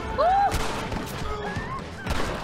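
Gunfire in the Red Dead Redemption video game, a few sharp shots cracking out amid a chaotic mix with a short vocal cry near the start.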